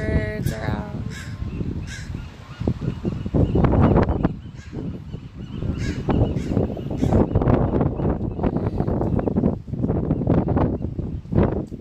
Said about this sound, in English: There's tons and tons of birdies.